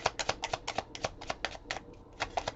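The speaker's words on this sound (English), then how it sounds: "Last shuffle." A deck of tarot cards is shuffled in quick rhythmic bursts, with crisp riffling snaps repeating close by and a short pause before a final few flicks.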